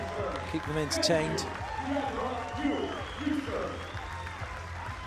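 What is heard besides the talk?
crowd applauding at beach volleyball match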